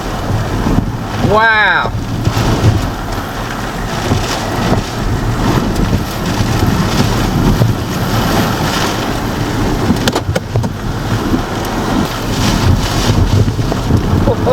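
Hurricane Francine's wind gusts roar steadily and loudly across the whole stretch, a broadband rush with brief swells, while a voice exclaims briefly near the start.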